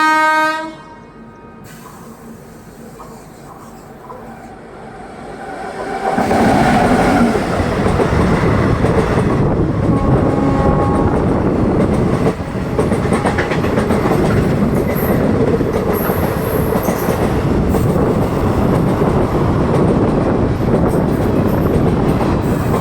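Train 12739 Visakhapatnam–Secunderabad Garibrath Express in India: a quiet, still interval, then a loud, sustained rumble and clatter of wheels on rails sets in and continues steadily, with horn-like tones mixed in.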